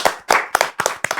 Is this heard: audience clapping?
yes